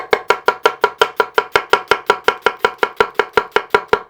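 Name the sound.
tap-chopping an onion with a Nakiri knife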